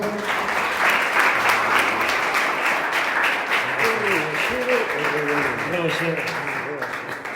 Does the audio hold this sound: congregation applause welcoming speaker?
yes